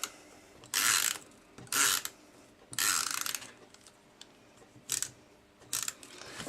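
Stampin' Up! Snail adhesive roller run across card stock in five short ratcheting bursts, each about a second long, close and clear with quiet gaps between.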